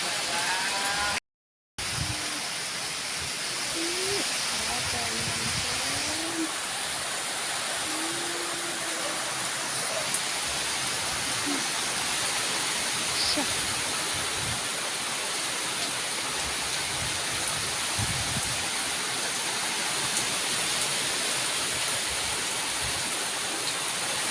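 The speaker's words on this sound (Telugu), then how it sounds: "చూడండి ఫ్రెండ్స్ ఎలా కొడుతుందో వర్షం" Heavy rain pours down in an unseasonal summer downpour, making a steady, dense roar that stays loud and unbroken for the whole stretch apart from one brief dropout near the start.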